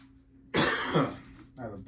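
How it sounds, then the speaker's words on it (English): A harsh, close cough or throat-clearing rasps for about a second, followed by a shorter second hack. "I have a bad cough."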